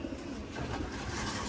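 Pigeons coo steadily over a constant low murmur of other birds in a loft, the soft throaty calls overlapping without pause and sitting fairly close.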